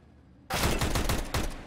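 Rapid gunfire bursts from a Counter-Strike style competitive match erupt suddenly after a quiet moment, several loud close shots in quick succession that tail off.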